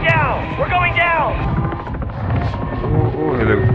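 In Call of Duty: Modern Warfare II (2022), a helicopter is struck by a missile and goes down, with rotor roar, blasts and rumbling under shouted radio voices and tense yelling.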